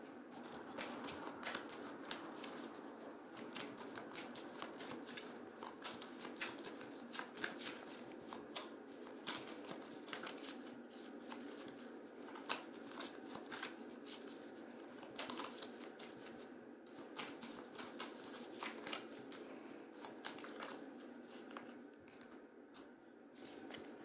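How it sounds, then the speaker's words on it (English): Oracle cards are shuffled by hand in a continuous, soft riffling and shuffling that runs close and quiet for the whole stretch, without any voices. "All right, I'm going to pull an oracle card."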